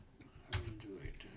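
Keys tapped on a computer keyboard while entering a user ID and password during Node-RED setup on a Raspberry Pi: a handful of light, irregular clicks, close by and fairly quiet, with no talking.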